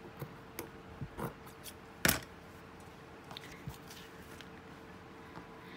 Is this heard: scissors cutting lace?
yes